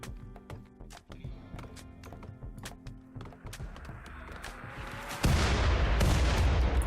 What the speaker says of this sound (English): One of their mortars is going up now.